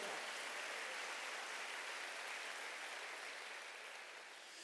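Applause from a church congregation during a Wednesday worship service: a broad, continuous wash of many people clapping at once, moderately distant and quiet, holding steady before thinning a little at the end.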